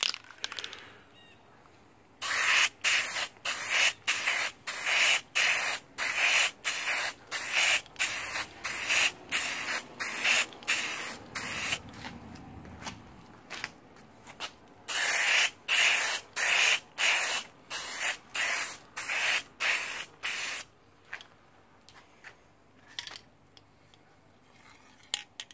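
A second coat of spray paint going onto a plain Halloween Captain America shield being made to glow in the dark: a long run of short, regular hissing bursts from the aerosol can, close and loud, with a brief pause near the middle.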